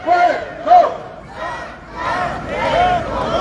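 A protest crowd chanting in unison on a street in Batumi, Georgia, with loud rhythmic shouted phrases rising and falling over a few seconds.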